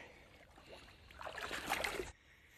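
Someone wades through a forest river, a soft swishing and splashing of water that swells briefly, loudest near the end, then drops away.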